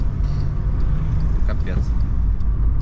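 A Skoda Fabia taxi drives through city traffic, its engine and road noise forming a steady low rumble, with faint traffic sounds and a passing vehicle in the background.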